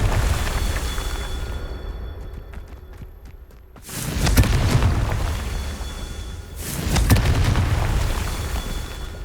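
Confringo fire spell explosions in Hogwarts Legacy: two loud, deep booming blasts a few seconds apart, each a sharp impact followed by a rumbling, crackling tail over a low background hum.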